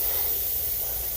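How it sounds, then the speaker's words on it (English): An electronic duster blasts air through its nozzle into a brochure holder, a steady loud hiss lasting just over a second with no voices. "and then I spray and get the dust out."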